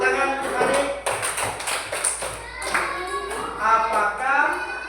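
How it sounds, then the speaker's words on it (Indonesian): A classroom claps for a child, a short patter of light, uneven hand claps close by, with a voice and other voices talking and calling out over the clapping. "Boleh tepuk tangan untuk adik."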